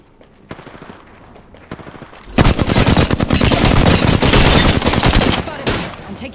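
Rapid automatic gunfire in a sci-fi shooter game, starting with a few scattered shots and then breaking into a loud, sustained barrage of close bursts.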